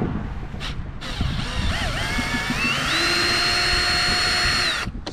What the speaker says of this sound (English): so first things first, we gotta take these bolts off on each side